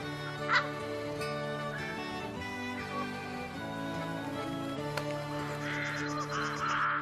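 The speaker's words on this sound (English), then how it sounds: "Ravens." Ravens, pitch-black members of the crow family, give a few scattered calls over a tonal music bed, brief and moderately distant.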